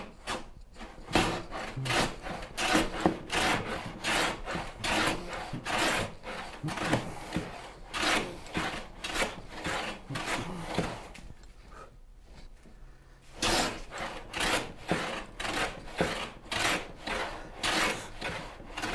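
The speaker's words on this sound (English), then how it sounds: "when that front corner is finally planing" A hand plane shaving wood on a Shaker-style cabinet, a long series of rhythmic, close rasping strokes with a short pause partway through.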